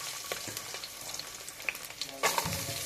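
Green chillies fry in hot oil with a little water inside a rice cooker, giving a steady close sizzle with scattered crackles and the clatter of stirring.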